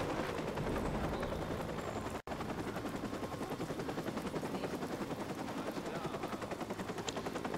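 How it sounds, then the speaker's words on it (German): In the video game Watch Dogs, a helicopter circles overhead, producing a continuous rapid rotor chop at moderate level with a brief dropout partway through. "Ja, aber der Heli kreist da rum."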